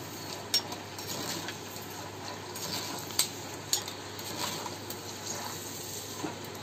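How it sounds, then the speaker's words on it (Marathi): Peanuts frying in spice masala for poha chivda, a continuous low sizzle with occasional sharp utensil clicks and stirring scrapes, moderate and close. "शेंगदाणे फ्राय होतले"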